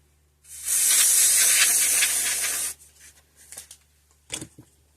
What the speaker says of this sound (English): That's a contact cleaner.